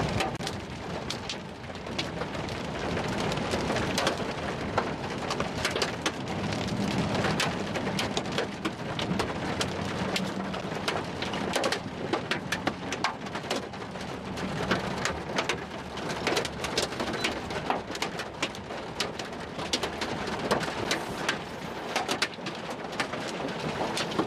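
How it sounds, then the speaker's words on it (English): Hailstones fall during a monster hailstorm near McCook, Nebraska, as a dense, continuous clatter of hard impacts on surfaces mixed with heavy rain, with scattered bird calls and distant thunder. "I'm getting hailstones right now where I'm at, and they just started falling just west of McCook."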